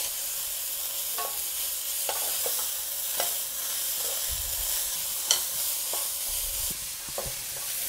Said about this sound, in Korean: 간마늘 2분의 1 스푼을 넣고 많이 볶아주세요.